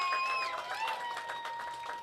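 Audience at a St. Patrick's Day Parade event clapping in a continuous, moderately faint patter with no voices over it.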